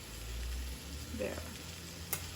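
Vegetables for Panang curry frying in coconut oil in a pan, a faint steady sizzle with a little stirring and one brief clink.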